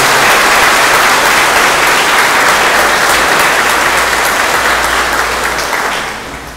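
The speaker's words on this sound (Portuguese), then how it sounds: "Também merece uma calorosa salva de palmas a Papa Francisco." A church congregation gives Pope Francis a loud, sustained round of applause during a novena Mass for Saint Joseph, a dense wash of clapping that begins to fade only near the end.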